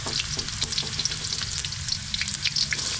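Garlic and onion frying in a pan, a close, steady, busy crackling sizzle with bright popping spatters throughout and no voices.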